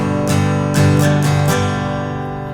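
An acoustic guitar plays a verse strum pattern for a song, with four bright, close strums over a ringing chord that fades at the end. No voice is heard.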